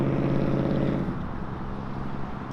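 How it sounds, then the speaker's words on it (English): A classic Chevy engine idles with a choppy cam lope, an uneven low rumble pulsing close by at a car meet, the loping beat easing after about a second. "there is something you cannot argue about when it comes to that Chevy cam lope sound"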